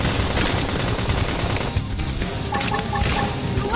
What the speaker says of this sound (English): Trying to topple it with Shadow gunfire.